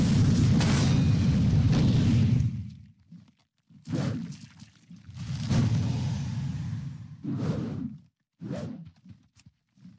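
A video-game meteor strike lands in a series of heavy booming blasts: one long roaring explosion, then several shorter bursts with gaps of quiet between them, loud and close.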